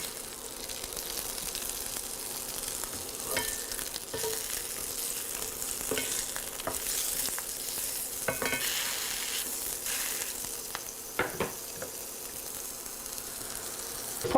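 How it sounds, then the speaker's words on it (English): Sausages fry in a pan with a steady broadband sizzle, broken by occasional sharper pops and spatters and brief clinks as they are turned, no voices present. "So we'll just cook these sausages up and give them a taste."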